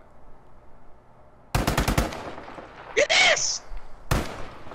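A Kar98 bolt-action rifle fires on the Battlefield V shooting range in the video game, loud close shots in a quick cluster and then one more, broken by a short electronic game tone.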